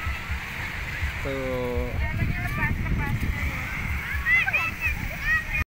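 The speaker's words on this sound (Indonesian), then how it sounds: "Ini dia pantainya." Water splashing and washing at Tanah Merah beach in Samboja, with a windy rush over the microphone. People talk over the water sound.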